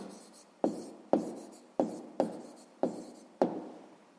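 Pen strokes writing out a math answer in a quiet room: six distinct scratchy bursts in steady rhythm, each starting sharply and trailing off, close and soft.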